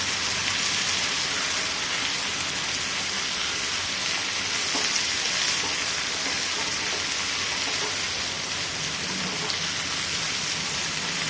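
Bilimbi pieces fry in a pan while being stirred, giving a steady, dense sizzle that runs unbroken throughout at an even, fairly loud level, with no talking.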